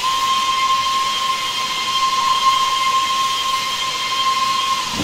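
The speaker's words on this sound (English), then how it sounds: "So the whistle does have a fairly long loop, as you can see." Steam whistle of an LNER K1 2-6-0 locomotive in Train Simulator Classic, one long steady high-pitched blast with airy hiss, held unbroken for several seconds without pause.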